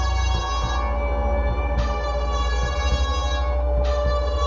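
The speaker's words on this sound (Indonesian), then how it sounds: "Sirine ambulans yang biasanya bising, kini terdengar teredam" An ambulance siren wails in a steady repeating cycle, loud and close, its tone rising and falling across several seconds with no speech.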